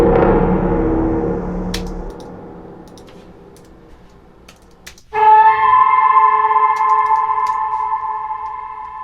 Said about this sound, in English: Lots of reverb on some of these.